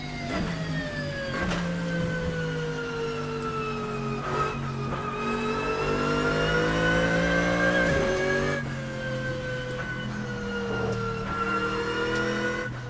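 A Mercedes GT3 race car with a rumbling V8 revs in the Assetto Corsa racing game, its engine note climbing and falling through several sustained pulls with brief gear-change dips, loud and close with no talking.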